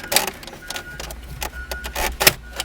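Plastic dashboard trim on a Hyundai Elantra J3 XD being pried off with a panel remover: a run of sharp, close clicks and cracking snaps in irregular bursts over a low steady hum, with no talk.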